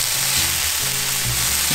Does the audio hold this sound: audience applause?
no